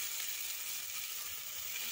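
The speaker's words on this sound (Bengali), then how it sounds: "এবার এর মধ্যে আমি ভেজে রাখা আলুগুলোকে দিয়ে দেবো।" Previously fried potatoes go into hot spiced oil in a pan for a kuche fish korma, giving a steady, close, even sizzle and hiss throughout with no talking.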